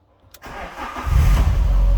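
An Alfa Romeo 145 Cloverleaf with about 100,000 miles and a seized alternator starts on the first try, a short crank followed by the engine catching and settling into a loud steady idle, close up.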